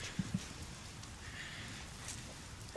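Steady rain hiss in a boss fight in the game Devil May Cry 3, soft and continuous, with two brief low thumps near the start and a faint higher swell partway through.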